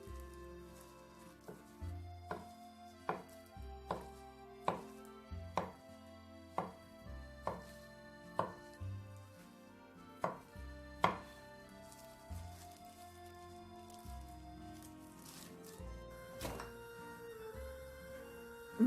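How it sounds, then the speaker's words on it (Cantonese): A knife chops a thin egg crepe into shreds on a cutting board, giving a steady run of crisp, evenly spaced taps that speed up briefly and then fade into a few scattered knocks, close and clear with no talking. "等呢個蛋皮略為攤涼少少呢，就可以切絲。"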